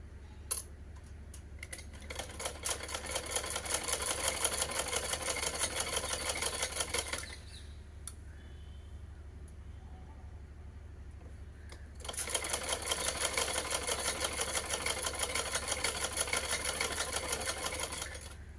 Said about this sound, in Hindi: यहाँ पर हमने सिलाई लगानी है।